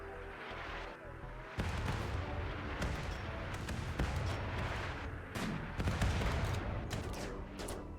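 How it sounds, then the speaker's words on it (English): A rocket artillery barrage fires in the video game RimWorld: after a quiet second, a dense, continuous volley of sharp blasts and booms rolls on with irregular louder cracks throughout. "There goes our rocket artillery."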